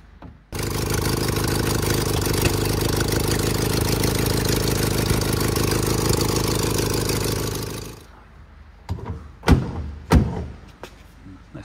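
An old car engine idles steadily and loudly for several seconds, then cuts off, followed by a few sharp clunks and knocks.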